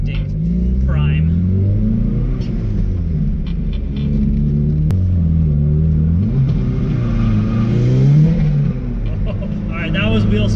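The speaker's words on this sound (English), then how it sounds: "Oh, all right, that was wheel spin." Mazda Miata fitted with a ZF 5-speed gearbox accelerates hard with wheel spin, its engine droning loud and close with rising and falling pitch through the gears while a voice talks over it.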